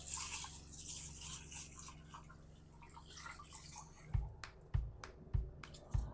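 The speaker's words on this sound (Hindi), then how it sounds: "अपने चावलों को रगड़ के धो लो" Rice being rubbed and washed in water by hand in a home kitchen, first a continuous wet swishing and scrubbing, then several separate sloshing splashes and drips close by.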